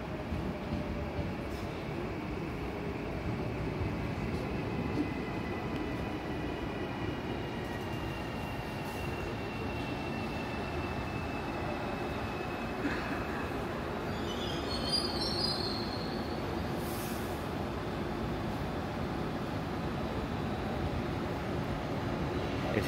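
A train bound for Jundiaí rumbles steadily past on the tracks at Francisco Morato, São Paulo, with a constant low roar and faint high wheel squeals partway through.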